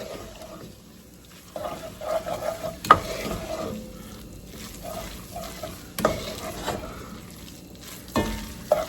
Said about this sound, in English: We are going to stir that around for about a minute until that raw flour cooks out.